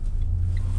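A car backs slowly through a U-turn on a city street, its engine a steady, close low rumble with no voices.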